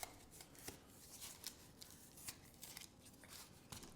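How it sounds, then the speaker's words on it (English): A card being opened, heard as faint close rustling and crinkling of paper with a few sharp little snaps and taps, quiet and with no talking. "Which is a recording of me opening a card."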